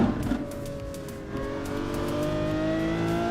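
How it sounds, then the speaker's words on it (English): Engine of a Lamborghini Aventador SVJ in a driving video game mod, revving loudly and steadily with rising engine tones that climb and hold, a continuous near roar with no talk. "We're driving the Lamborghini Aventador right now, the SVJ Aventador."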